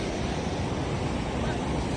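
Water flows and rushes steadily at a Hanuman temple, a constant loud broadband wash close by without any distinct break.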